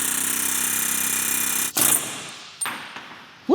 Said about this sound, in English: this ball joint is coming out with the air hammer